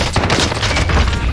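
Dense rapid gunfire crackles and booms in the video game Call of Duty Warzone, loud, close and continuous with overlapping shots throughout.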